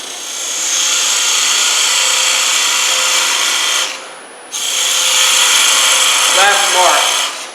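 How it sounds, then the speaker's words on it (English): A parting tool cuts into a segmented wooden baby rattle spinning on a lathe. The loud, steady scraping whir runs almost throughout, with one short break, and a brief voice comes in near the end. "now what I do is I take my parting tool and I define my ends"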